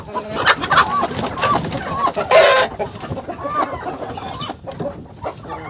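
Chickens cluck and squawk in a busy, continuous stream close by in a farmyard with turkeys, one turkey biting a hen, and people talking at times underneath.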